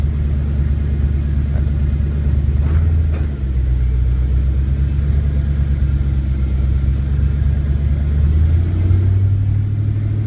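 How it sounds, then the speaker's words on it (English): A black 1993 Ford Mustang LX 5.0 liter convertible drives with a loud, steady engine drone, its pitch dropping and rising as it shifts through the gears, no voices. "When I seem to put it in drive, it seems to go 2, 3 real quick."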